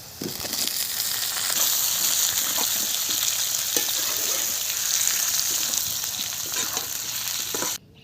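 Thin-sliced potatoes fry in a pan of hot oil, giving a loud, steady sizzle with crackling pops that continues unbroken for about eight seconds, then cuts off abruptly.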